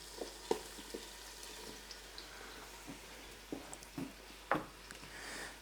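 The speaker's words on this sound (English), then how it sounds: "as you can hear from the sizzle, that is nice and hot" Onion frying in hot oil in a pot, a quiet steady sizzle broken by scattered pops and crackles, heard alone.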